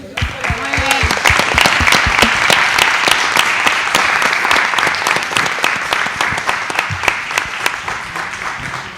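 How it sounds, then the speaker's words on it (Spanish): Audience applause at an academic discourse-studies colloquium, given for the organiser and collaborators: dense, steady clapping from a large room that holds for about nine seconds and thins slightly toward the end, with a voice briefly heard over it. "el aplauso es para vos y todos tus colaboradores"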